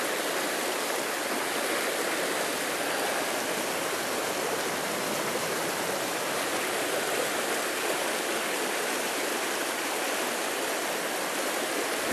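A small trout stream flowing over rocks, a steady, full rushing wash of water heard up close and unbroken, with no voices.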